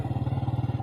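Motorbike engine idling close by, a loud steady rapid chugging pulse with no talk over it.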